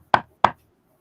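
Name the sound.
knocking on a door, imitated by the narrator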